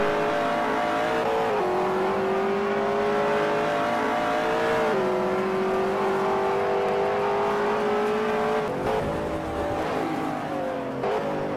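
A touring car engine at full race pace during the 1985 NZTCC Wellington 500 km street race, driven hard and sideways, drones loud and close with sustained revs that dip and climb through gear changes.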